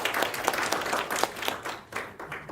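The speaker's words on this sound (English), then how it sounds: "Big round of applause for all of us." Audience applause at a university talk, with a dense burst of many hands clapping that carries steadily for a couple of seconds at close range, with no speech over it.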